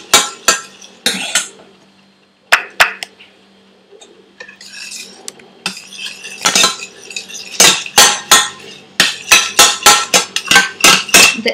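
Seekh kebab mixture with egg and yogurt being mixed in a bowl, giving loud, rapid clinks and knocks of a utensil against the bowl that come in bursts and settle into a steady rhythmic beat.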